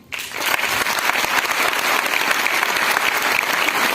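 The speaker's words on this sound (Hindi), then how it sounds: "उनके लिए ताली बजा लीजिए" A large seated audience of around 1,100 people at a success training seminar bursts into sustained applause after a brief quiet start, dense steady clapping filling the room for several seconds.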